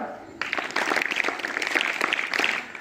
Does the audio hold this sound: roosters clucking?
no